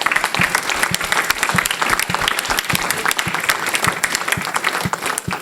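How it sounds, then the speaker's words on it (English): Audience applauding candidates at the close of a forum in South Haven, Michigan: sustained, moderately loud clapping with distinct individual claps standing out from the crowd. "Let's give them a round of applause."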